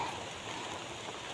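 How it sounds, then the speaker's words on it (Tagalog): Steady rain falls outdoors, a soft, continuous hiss of drops on surfaces, faint and even with no voices. "parang may nagmo-moist kasi umuulan"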